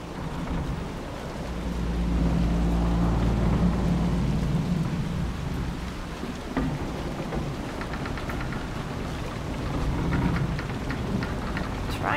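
Steady heavy rain from a thunderstorm in the fantasy role-playing game Dragon Age: Inquisition, with low rolling rumbles of thunder swelling and fading beneath the continuous downpour, no voices present.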